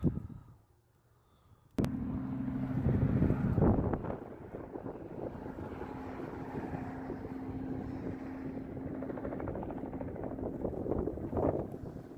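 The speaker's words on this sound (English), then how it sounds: "It's too windy" Heavy wind buffets the microphone after a brief quiet start, producing a continuous loud rumbling roar that rises and falls throughout.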